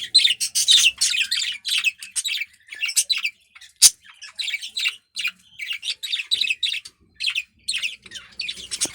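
A pet budgie that has a pasty butt gives rapid, close chirps and harsh squawks in steady bursts with short gaps, with no talking.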